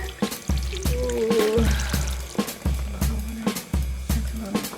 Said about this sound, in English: Here lastly goes some water.